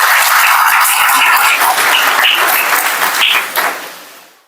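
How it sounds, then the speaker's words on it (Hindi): Loud, dense applause from an audience in a hall at a national medical council event. It carries strongly for several seconds, then fades out. "जरा क्लैपिंग।"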